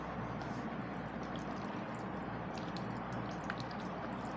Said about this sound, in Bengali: ও কলটা খুলে দেখো